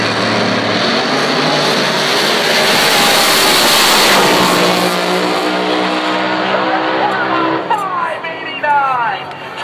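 A drag racing car does a burnout at a quarter-mile strip, its engine roaring loud and continuous with screeching tires, the pitch rising and shifting before easing near the end; an announcer talks over it.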